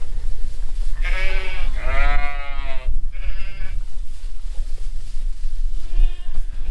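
Sheep-like bleats from a goat and lambs in a warm, deep-bedded pen, several loud harmonic calls in quick succession near the start, then a pause and one more bleat toward the end, with low wind-like rumble underneath.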